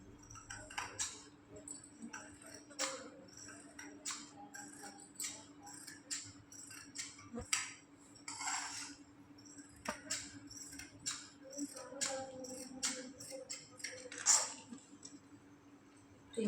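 Scissors snipping through blouse lining fabric during tailoring, a run of short crisp cuts in irregular rhythm, close and fairly quiet, with a low steady hum underneath and no talking.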